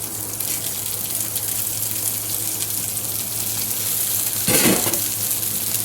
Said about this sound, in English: let's go ahead and get these beans into the pan